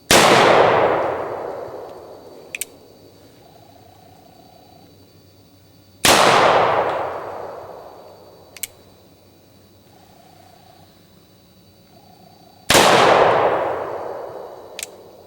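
An 1847 Colt Walker revolver fires three loud, sharp shots at a target about 15 yards off, each blast followed by a long decaying ring, spaced roughly six seconds apart with faint clinks between.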